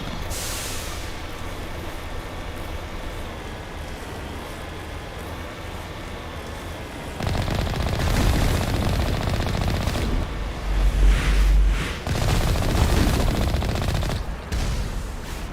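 Gunfire in Mass Effect Legendary Edition, with sustained rapid automatic fire and clustered shots growing louder partway through over rumbling combat noise and occasional heavy thuds, and no talking.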